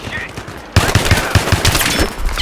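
Rapid automatic gunfire in Battlefield 3, a burst of evenly spaced loud, close shots starting abruptly and continuing with scattered further fire.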